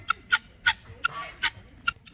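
Guinea fowl calling close by in a farmyard, a run of about seven sharp, harsh, evenly spaced squawks with quiet gaps between them and no talk.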